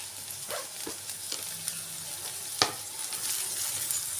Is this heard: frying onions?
yes